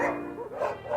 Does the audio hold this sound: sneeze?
no